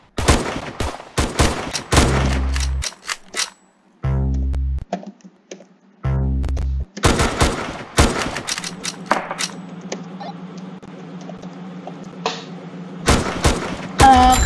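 Rapid sniper tower gunfire in the Roblox-style video game Tower Defense Simulator, sharp cracks in quick bursts with deep booming effects between them, loud and dense over game sounds.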